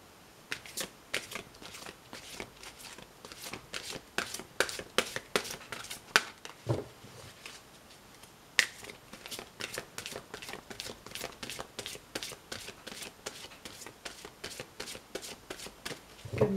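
Oracle cards are shuffled by hand in a quiet room, giving a steady run of soft, crisp riffling slaps and flicks. A few louder taps stand out, and no voice is heard.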